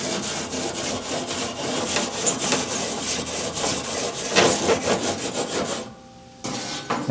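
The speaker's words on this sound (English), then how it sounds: "Brush off this grill." A brush scrubs a worn-out barbecue grill, nearing its last season, in quick repeated rasping strokes that run steadily and close by, then pause briefly near the end before resuming.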